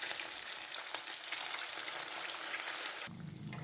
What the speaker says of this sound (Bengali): যখন তেল খুব ভালোভাবে গরম হয়ে যাবে তখন মাছ সব ভেজে নেব।